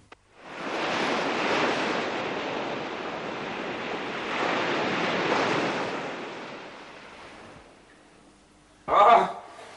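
Sea waves wash in a soft, broad hiss that swells twice and then fades away, followed by a short burst of voice at the end.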